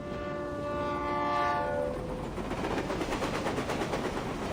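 A train in the video game Reverse 1999 sounds a loud, sustained horn, then passes close by with a steady, rhythmic clattering rumble that fills the rest of the moment.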